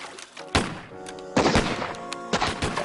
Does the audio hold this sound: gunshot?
yes